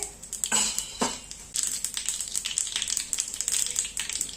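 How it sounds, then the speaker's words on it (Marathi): Half a spoon each of mustard seeds and cumin hit hot oil, bursting into loud crackling pops at first, then settling into dense, busy sizzling and spluttering close up, with no talking. "तेल तापल्यानंतर टाकायची आहे अर्धा चमचा मोहरी, अर्धा चमचा जिरे"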